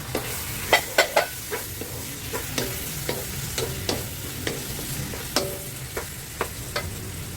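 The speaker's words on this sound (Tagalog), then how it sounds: "Igisa na natin sa butter." Ground meat sautéing in butter in a pan for a cheesy spaghetti sauce, with a steady close sizzle broken by sharp, irregular scrapes and clinks of a spoon stirring against the pan.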